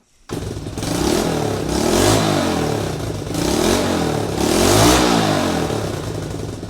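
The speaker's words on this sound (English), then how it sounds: "this is what the bike sounds like with the stock muffler with a few holes in it." Honda CT90 motorcycle engine running through its stock muffler with a few holes in it, a loud close throaty idle and rev with rhythmic surges and rattly exhaust, no talking.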